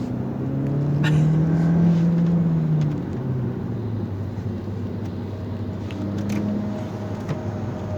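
A VW Passat 1.4 TSI 122 hp CAX engine with an ignition coil fault misfires at steady throttle in high gear and low revs: a continuous low engine drone with a few brief stumbles and knocks, close by.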